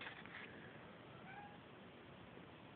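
Faint cat meowing from a distance, a few soft, drawn-out calls heard at low level against a quiet background.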